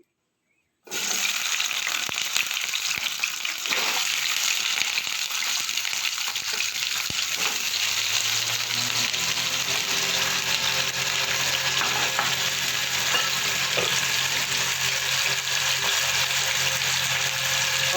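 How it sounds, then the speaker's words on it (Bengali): Potatoes drop into hot oil and erupt into a loud, dense, continuous sizzle that holds steady close by, with a few faint knocks and no speech. "তেলটা আমি গরম করতে বসিয়ে দিয়েছি, দিয়ে আমি আলুটা আগে ভেজে নেবো"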